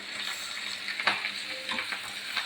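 Lightly fried hilsa fish pieces crackling in hot oil in a pan, a steady close sizzle with a few brief spatters and stirring scrapes.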